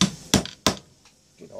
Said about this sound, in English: I'll go ahead and make my hole for my rivet so I know where it is.